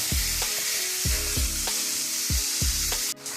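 Ground beef sizzles steadily in a pan as it is broken up, with a run of regular knocking thuds from the utensil against the pan over a continuous frying hiss, close and alone.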